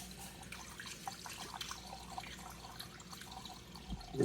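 Oil additive trickles from a bottle into the engine of a Scion xB during an oil change, a thin steady pour with faint dripping, close and fairly quiet, no voices.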